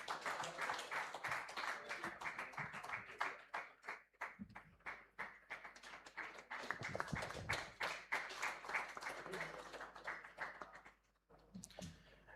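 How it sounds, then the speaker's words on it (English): Scattered applause from an audience at a Goa installation ceremony during a memento presentation, fairly faint and uneven, with a lull and a few isolated claps near the end. "And can we please have a round of applause again?"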